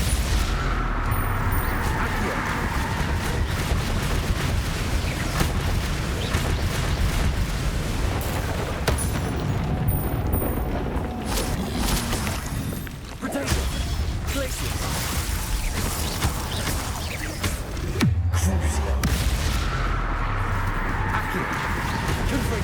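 Repeated blasting-curse explosions from Hogwarts Legacy spell combat keep booming and crackling through a dense, continuous battle mix, with a voice talking over the noise.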